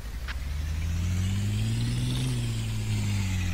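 A tractor engine runs in the farming game Farming Simulator 2013, giving a steady droning hum whose pitch rises gently and then eases back down. No one talks.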